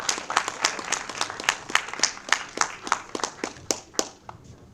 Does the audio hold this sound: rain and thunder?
no